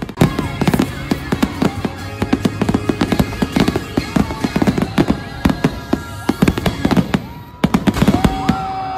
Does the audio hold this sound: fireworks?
yes